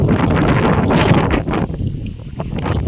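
Loud, gusty wind buffets the microphone with a heavy, continuous roar that swells and dips slightly.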